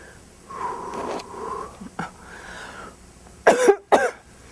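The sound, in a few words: coughing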